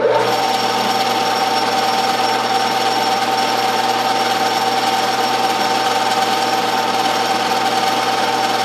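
A Jet-16 milling machine with Tormac inserts takes a light skim pass, giving a loud, constant motor whir and cutting hum with steady tonal whine and no pauses.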